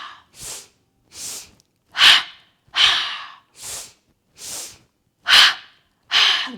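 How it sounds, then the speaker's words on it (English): Two-part yoga breathing: eight sharp, close breaths in short bursts, paired in a steady rhythm, alone with silence between them. "Two-part inhale and two-part exhale."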